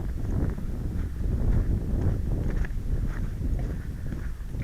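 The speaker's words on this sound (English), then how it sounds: "How bad is the wind sound?" Light breeze outdoors buffeting a small SQ13 mini camera microphone, a steady low rumbling wind noise that swells and eases throughout without any speech.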